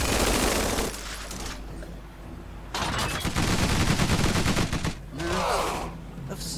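Gunfire in the strategy game Tiny Metal: Full Metal Rumble, loud bursts of rapid automatic shots in several volleys separated by short pauses, with a brief metallic ring between bursts and no voices.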